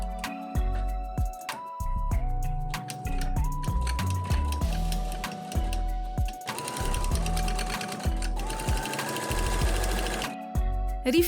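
A sewing machine stitches a shirt collar around a curve, running in short whirring bursts with brief stops between them, steady and close by.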